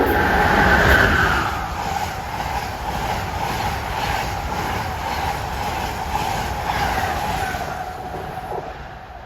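Train 173 from Boston to Washington, a long passenger train, rolls into the station with a loud, steady rumble and rhythmic wheel clatter that holds throughout.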